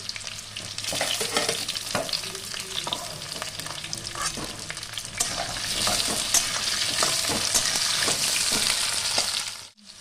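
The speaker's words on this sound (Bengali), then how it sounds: "আলু একসঙ্গে ভেজে নিচ্ছি।" Pumpkin and potato pieces frying together in a pan, a loud continuous sizzle with repeated scraping and stirring strokes of a spatula throughout, no voices.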